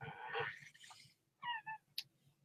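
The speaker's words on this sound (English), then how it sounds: "Upside down kitty." A cat meows several times, a drawn-out cry first and then two shorter, higher mews, fairly close and clear over a low background hum.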